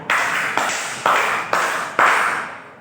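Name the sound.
group clapping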